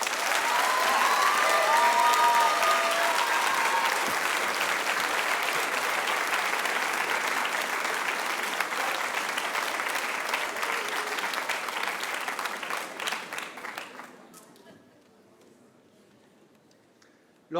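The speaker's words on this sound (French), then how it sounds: "vos plus beaux applaudissements pour Monsieur le maire de Montreuil" A large audience at a high school eloquence contest in Montreuil gives the town's mayor sustained dense applause. It holds steady for about 12 seconds, then tapers off and falls silent.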